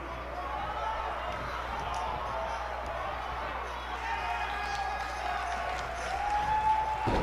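Arena crowd at a WWE 2K wrestling match, a sold-out audience producing a steady wash of cheering and roaring that swells slightly toward the end, heard beneath a commentator's voice.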